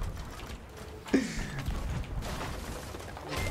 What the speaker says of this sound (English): Our sail just happens to be getting raised.